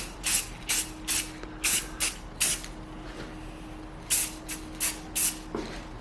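Short bursts of aerosol clear coat hiss in a steady on-off rhythm while a motorcycle part on a custom Kawasaki Ninja 250 cafe racer build gets sprayed, each burst close and fairly loud, with a faint mechanical hum beneath.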